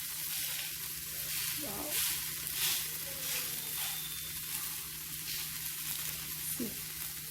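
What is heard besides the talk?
ragi millet dosa roasting and sizzling on the pan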